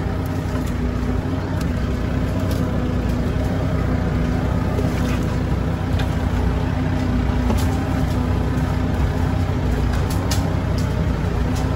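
Sherp Pro XT all-terrain vehicle driving over logs, a loud, constant diesel engine drone with a steady low hum and occasional knocks, close and unbroken for the whole stretch.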